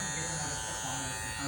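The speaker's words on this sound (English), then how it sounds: "I'm gonna hold the trimmer upside down like this." Electric beard trimmer held upside down while shaping the beard line toward the cheekbone, giving a steady, close, continuous buzz under faint background voice.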